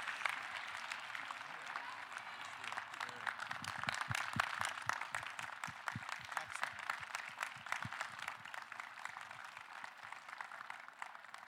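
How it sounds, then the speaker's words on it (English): A crowded room at a youth speaking event applauds its speakers with a sustained, even round of many hands clapping, steady from start to finish with no talk over it. "can we have another round of applause for our speakers"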